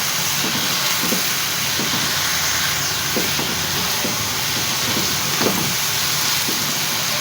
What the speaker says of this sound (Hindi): अब दही शामिल कर देंगे, इसको भी भून लेते हैं।